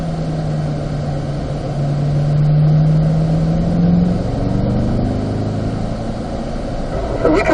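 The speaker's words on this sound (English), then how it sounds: "accelerating out, 5th gear" A performance car accelerates out of a turn in fifth gear on the Spring Mountain race track, its engine a steady, loud mid-pitched drone that rises in pitch as it pulls, heard from inside the cabin.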